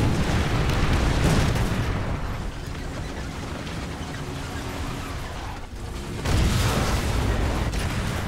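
A Sherman Jumbo tank in War Thunder fires its cannon amid a loud, continuous rumbling drone, and a heavy boom breaks in toward the end.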